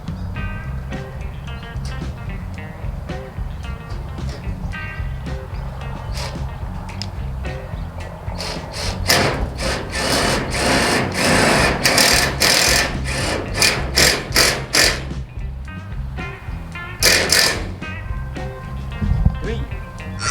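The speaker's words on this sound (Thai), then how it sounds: "ใช้ตัวไขควงตัวนี้นะครับ ยิงเลยนะครับว่ามันจะใช้งานดีหรือเปล่านะครับ" An IMAX IMIS-12V cordless impact driver drives roofing screws, its rapid hammering rattle coming in loud, close bursts with brief pauses, while someone talks at times.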